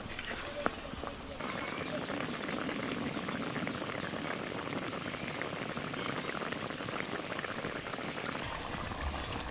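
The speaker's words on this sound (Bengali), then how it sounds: "ঝোল ফুটে গেছে এবার মুইঠাগুলো আমি ঝোলের মধ্যে দিয়ে দেবো" Curry gravy for a soyabean muitha dish boiling in a pot, a dense continuous bubbling close by that runs steadily throughout with no talk.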